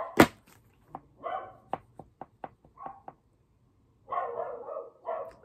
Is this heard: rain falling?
no